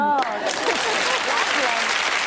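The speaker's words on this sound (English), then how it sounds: "Give her a round of applause." Studio audience applause on The Mrs Merton Show, a dense burst of clapping that starts just after a voice and carries on steadily at full strength.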